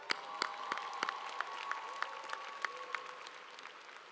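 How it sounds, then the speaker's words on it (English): Audience applause at a university spring commencement ceremony, steady distant clapping from a large crowd with sharper individual claps standing out, fading slightly toward the end. "Another round of applause."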